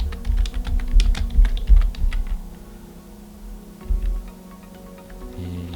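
Someone types the name of a dessert into JavaScript code on a computer keyboard, a quick run of clicking keystrokes that pauses midway, then resumes with a few lighter taps.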